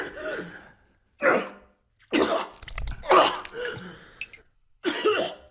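Harsh, wet coughing fits in a dubbed web novel drama, a character with metal fragments tearing the airway: several separate bursts of hacking and throat-clearing, close and loud, between short gasping pauses.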